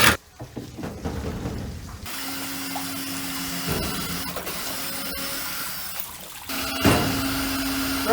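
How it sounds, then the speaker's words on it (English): Screws being driven into timber by a power driver while building an outdoor cat run, with two sustained whirring bursts separated by a pause, heard up close and loud. "let's just put a couple of screws in here"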